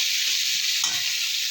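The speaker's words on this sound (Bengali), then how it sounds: "ফুলকপি ভাজা হচ্ছে ছেলের জন্য।" Cauliflower pieces frying in oil in a pan, a constant bright sizzle up close with a brief stirring scrape partway through, no talking.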